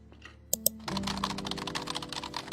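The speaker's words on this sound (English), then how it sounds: "we're going to click on the title so we can type it." Rapid typing on a computer keyboard while entering a product title in an online store setup, a steady close run of key clicks after two brief sharper taps, with no talk.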